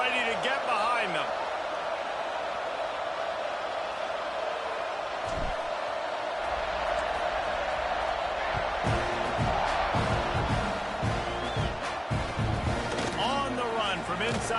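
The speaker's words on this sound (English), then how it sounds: "the roar is reverberating throughout this stadium" A football stadium crowd roars throughout a kickoff return, a dense, sustained wash of cheering that swells in places, with an announcer talking over it.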